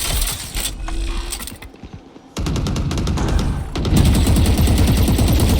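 Rapid automatic gunfire bursts from a Valorant competitive match on the Fracture map, loud and dense, with a short lull before sustained firing resumes and runs continuously to the end.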